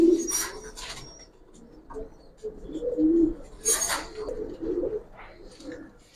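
Giribaz pigeons give low, throaty coos in short repeated phrases, close by, with soft rustling and faint chirps between them.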